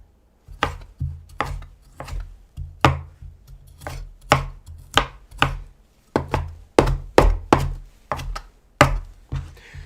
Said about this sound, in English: Chopping up some tomatoes here.